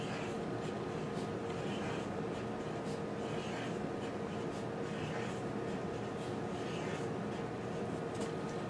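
A pen writes on paper, quiet scratchy strokes in an irregular rhythm, close and faint over a soft room hum, with no talk.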